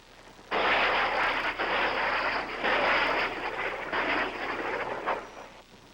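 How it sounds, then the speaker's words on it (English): South Vietnamese helicopter gunships circling over a battle, heard as a loud, broad roar of rotors and engines that surges in several heavy pulses before easing off, with no talk. "South Vietnamese helicopter gunships circle and fling down their salvo of rockets"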